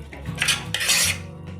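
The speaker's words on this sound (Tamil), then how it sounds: "சேர்த்து நல்லா பிரட்டிடணும்." A spoon scrapes and clatters in a pan of prawn masala with softened tomato and salt, giving two quick, close, loud stirring strokes with no voices.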